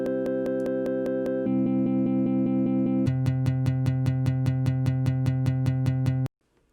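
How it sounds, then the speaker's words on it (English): A guitar sample looped over and over in ChucK, glitchy and rapidly retriggered in even stutters that jump between pitched chunks, closing in a fast steady machine-gun repetition before cutting abruptly to silence. "get sort of a glitchy quartet-esque folktronica sound,"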